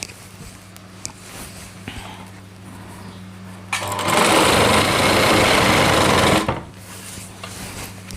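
A sewing machine runs the side seam of a heavy-work Rajputi lehenga in one loud, steady burst of a few seconds, preceded and followed by quiet handling sounds.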